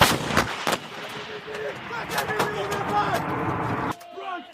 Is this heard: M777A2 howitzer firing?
yes